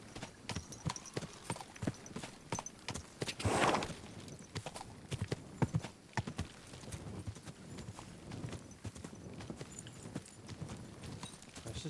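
Horse hooves clip-clop steadily in the Kingdom Come video game, a continuous close rhythm of hoof strikes on uneven terrain, with a brief rushing burst partway through.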